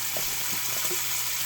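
Water is drawn from a kitchen tap for a cornstarch thickening mixture while steak is cooked, a steady faint hiss of running water running alone throughout.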